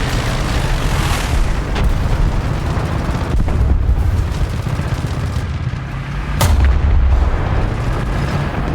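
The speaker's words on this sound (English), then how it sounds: "The enemy heavy tank fires at us." A Soviet heavy tank's cannon fires in War Thunder tank combat, sharp booming blasts over a constant rumbling engine and battlefield din, with one especially loud nearby shot late on.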